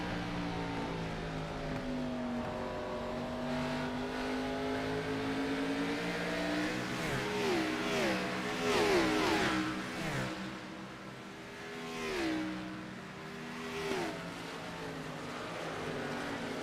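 Race cars running nose to tail in a train at Richmond during a Bathurst 250 race, engines droning and rising in pitch as they pass. The sustained roar swells and fades over several seconds, with no voices.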